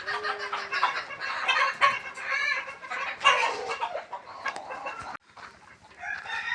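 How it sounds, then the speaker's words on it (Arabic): A flock of Fayoumi chickens clucks and chatters continuously and close by, with busy overlapping calls throughout. "انتم الدجاج راه خارج تيتشمش"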